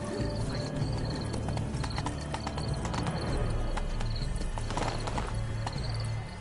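Horse hooves clip-clop at a steady trotting rhythm in The Witcher III, loud and close, with a brief whinny and game ambience underneath.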